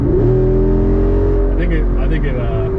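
2024 Jeep Wrangler Rubicon 392 with a valved exhaust, its V8 engine rumbling steadily and loud from inside the cabin on a test drive, with brief higher-pitched rises near the end.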